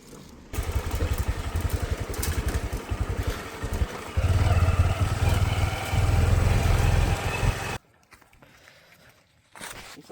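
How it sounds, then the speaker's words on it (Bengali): A motorcycle is ridden along a paved village road on a cold winter morning, its engine loud and close with rattling clatter for several seconds before cutting off abruptly, leaving quiet with faint idling. "এবার তুই বাইক চালা"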